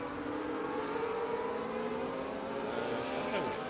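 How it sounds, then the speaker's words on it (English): Race car engines from a racing video game replay drone steadily with rising and falling whines as cars pass, a continuous layered engine roar with no talk. "2 sets of car engines."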